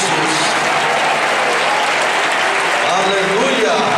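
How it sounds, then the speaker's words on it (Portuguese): A church congregation at a vigil service claps for Jesus, a loud, continuous roar of many hands that holds steady throughout, with voices faintly mixed in near the end. "Mais forte as palmas para Jesus."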